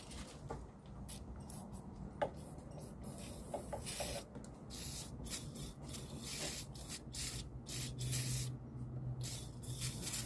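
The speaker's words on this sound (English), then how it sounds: "Now we've turned it all the way around, so we're going to spray it again." Cleaner sprayed in bursts and a belt track wiped clean on a 2013 Honda Pilot during alternator replacement, close hissing spurts with rubbing in between, no talking.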